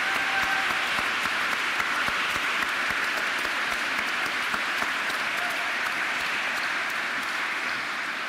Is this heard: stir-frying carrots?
no